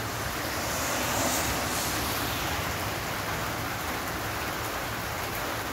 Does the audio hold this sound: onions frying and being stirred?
no